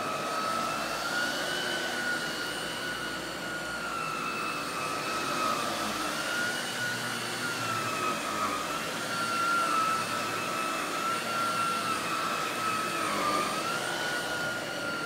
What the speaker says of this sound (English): I honestly like the way the power brush sounds.